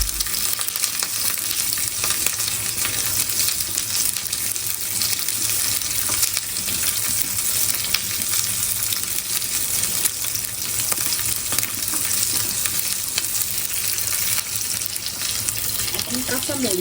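Garlic frying in hot oil in a home kitchen during a cooking competition, a steady dense sizzle running throughout with faint clinks of stirring and a brief splash of water near the end.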